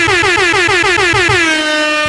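A loud air horn blares in rapid stuttering pulses, then settles into one long sustained blast, close and piercing.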